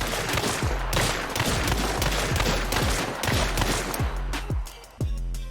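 Rapid automatic fire from the DOLCH weapon in a video game, a dense stream of sharp shots in quick bursts with short pauses, loud and close.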